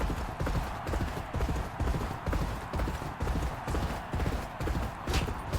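Galloping racehorse hooves from G1 Jockey, heard as a continuous, driving beat of close, loud hoofbeats in a quick, even rhythm with no voices over them.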